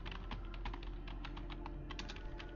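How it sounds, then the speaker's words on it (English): Rapid, even keystrokes on a laptop keyboard clatter nearby in a steady, continuous stream, with no voices. "the rhythmic typing of her essay"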